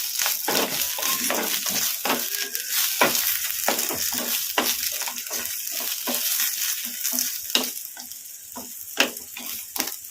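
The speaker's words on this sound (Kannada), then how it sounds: "ಫ್ಲೇಮು ಮೀಡಿಯಂ ಫ್ಲೇಮಲ್ಲಿ ಫ್ರೈ ಮಾಡ್ಕೋಬೇಕು ಹಸಿಮೆಣಸಿನಕಾಯಿನ" Green chillies fry over a medium flame in a pan, giving a continuous close sizzle broken by repeated clinking and scraping strokes from a stirring spoon, with no talk.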